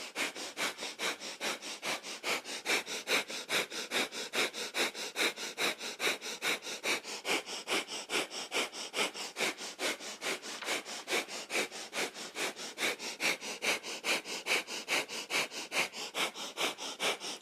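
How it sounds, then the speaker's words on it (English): Rapid, rhythmic nasal breath-of-fire breathing from a kundalini yoga practice, with steady sharp exhales pumping evenly, close-miked, continuing without pause and with no talking. "breath of fire."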